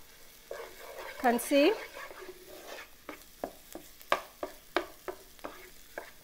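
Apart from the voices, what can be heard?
stirring tomato paste into frying onions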